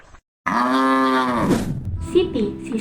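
A cow sound effect for a children's bedtime story: one long, loud, close moo followed by a brief lower grunting tail, no talk.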